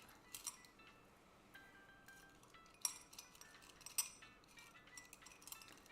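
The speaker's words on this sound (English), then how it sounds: "There's something glass inside the bowl, so if you hear something clinking around, that's probably what it is." A glass object clinks around inside a bowl, giving a few faint, scattered high-pitched taps and small rattles over a quiet background, with brighter knocks near the middle and again toward the end.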